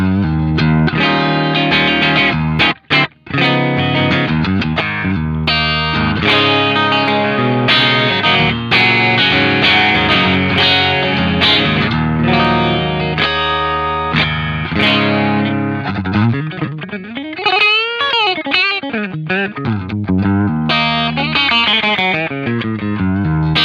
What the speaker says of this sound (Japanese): まずはですねクリーンチャンネルの音を弾いていきたいと思います。